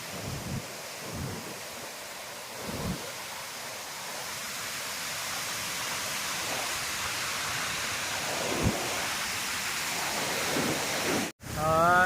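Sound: waterfall beside a dam

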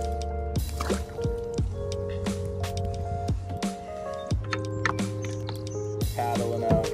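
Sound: kayak paddling on a pond

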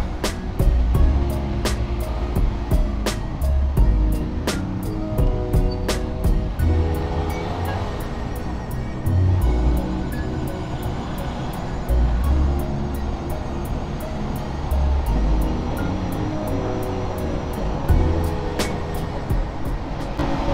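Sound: large trucks including a dump truck passing on the road

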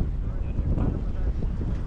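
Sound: strong wind

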